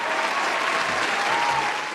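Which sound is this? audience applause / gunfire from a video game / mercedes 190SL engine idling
audience applause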